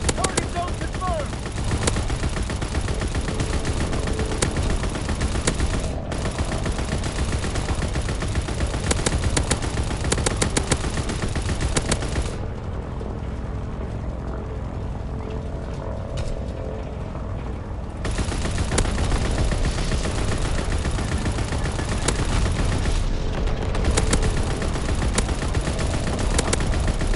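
Ball turret aircraft gunner machine gun fire in a video game, a dense, loud, continuous rattle of rapid shots with one brief quieter break in the middle, then steady firing again.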